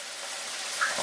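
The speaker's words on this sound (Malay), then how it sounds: "Goreng ikan masin" Salted fish frying in hot oil gives a faint, steady sizzling hiss that runs throughout without a break.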